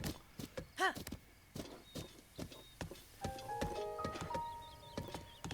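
Hooves of a horse in Zelda: Breath of the Wild clip-clop in an uneven patter, mixed with brief game tones and a short snort, fairly quiet throughout.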